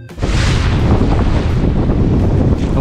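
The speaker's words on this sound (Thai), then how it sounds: "ลมกำลังดีคลื่นก็แรงด้วย" Strong wind buffets the microphone on a moving boat in rough seas, a loud continuous roar mixed with the rush and slap of heavy waves against the hull, no voices.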